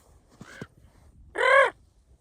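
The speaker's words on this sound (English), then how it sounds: "I was just talking to the crow." A crow caws outdoors in Idaho beside water where perch are being caught. First comes a short, soft double call, then after a pause a single louder, harsh caw, with nothing else heard around them.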